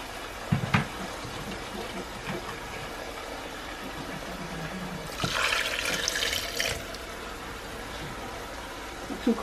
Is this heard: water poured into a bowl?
yes